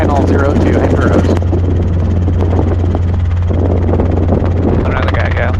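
Robinson R22 helicopter in flight during a lesson, its loud steady rotor and engine drone filling the cabin while radio talk and intercom voices speak over it.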